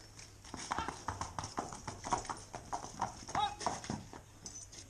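A young Shire colt walks during ground training, its hooves clip-clopping in a steady, close rhythm while a handler talks over the footfalls.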